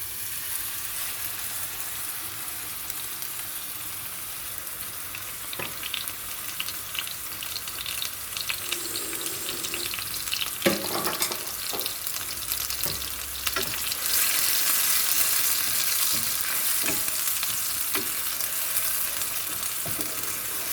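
Spice paste sizzles steadily in a pan over low heat for a salmon curry, a continuous close frying hiss with occasional stirring clinks and scrapes.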